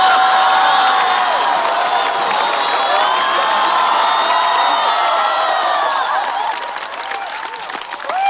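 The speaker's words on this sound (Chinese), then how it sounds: "掌声不停，我不停" Loud, sustained applause and cheering from a stand-up comedy audience, with dense clapping and whoops filling the whole stretch and easing slightly near the end.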